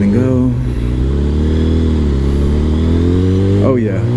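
Engine-swapped vehicle with a GSX-R motor pulling hard in first gear, a loud, close engine note rising steadily in pitch for several seconds before the revs drop sharply near the end, with a voice talking over it.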